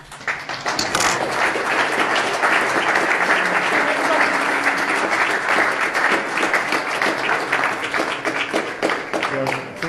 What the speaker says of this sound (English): he gets a special round of applause